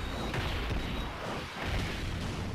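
A Meteor Explosion attack in a Dragon Ball fighting video game, heard as a dense, sustained roar of booming blasts and crashing impacts with heavy low rumble, briefly dipping midway before surging again.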